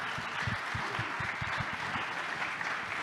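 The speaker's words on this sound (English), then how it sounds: "Please give them a round of applause" A conference audience applauds a panel at a fintech event, a steady wash of many hands clapping throughout at moderate volume with no voices.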